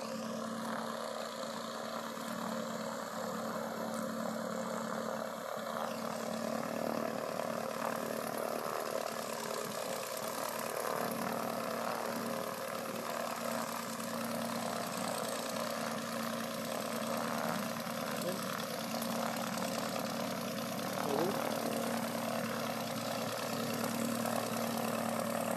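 A light aircraft engine, the last small plane at a Rioverde fly-in event, idles steadily and continuously before takeoff, a loud, even drone holding throughout with no voices.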